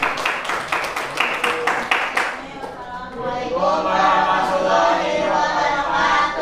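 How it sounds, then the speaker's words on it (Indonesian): Audience clapping after a group's classroom performance, a dense burst of applause in the first couple of seconds that fades as voices and chatter take over. "kelompok berikutnya beri tepuk tangan dulu untuk penampilan yang keempat"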